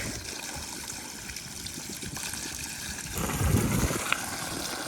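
Water boiling and hissing in hot ground beneath a charcoal fire, a steady bubbling seethe that grows louder and rougher partway through, heard close and alone.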